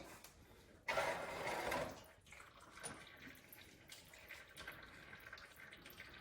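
Engine coolant draining out of the radiator of a Lexus RX350 while the drain plug is open, a steady rushing pour of liquid that is loudest at first and then settles into a fainter trickle.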